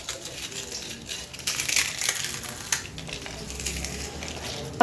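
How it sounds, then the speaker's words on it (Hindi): Crispy, flaky fried papdi dough crackling and crunching as it is crushed close up, a dense run of brittle snaps and rustles that gets louder partway through, with no talk. "अभी आप पापड़ी की आवाज़ चेक करें कि हमारी जो पापड़ी है कितनी खस्ता और कुरकुरी"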